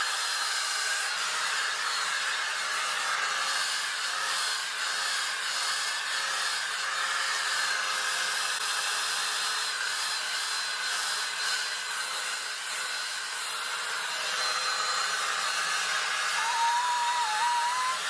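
Hair dryer blow-drying type 4 natural hair, a steady close whooshing roar running continuously throughout with no talk.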